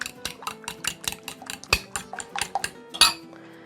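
A utensil beats six eggs with salt in a bowl, giving a quick run of sharp, close clinks against the bowl's side at a fairly even rhythm, one louder knock near the end, and no talking.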